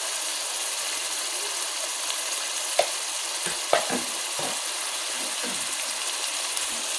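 Spices sizzle steadily in a hot pan for Lahori chana masala, a constant hiss with a few clinks and scrapes from the stirring spoon scattered through it.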